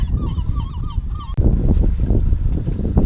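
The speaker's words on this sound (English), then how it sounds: "Look at all those damn seagulls." Seagulls calling near an island on the Great Lakes, a run of squawking cries over loud boat engine and wind rumble, the calls dropping away as the wind noise takes over.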